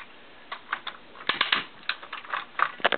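Rapid plastic clicks from the ratcheting arm joints of a Devastator toy robot, a quick irregular series of small snaps close by, faint and dry with no talking.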